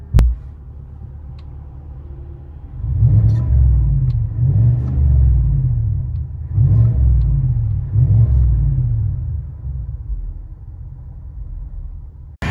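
A GMC Sierra Denali 6.2L V8 with an aftermarket exhaust heard from inside the cab, a loud deep throbbing rumble that swells in four repeated revs over a constant low idle drone.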